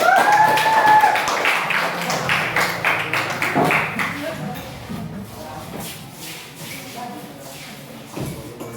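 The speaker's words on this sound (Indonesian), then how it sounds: "Beri tepuk tangan." A burst of clapping from a classroom group of students, thinning out over several seconds, with voices murmuring underneath.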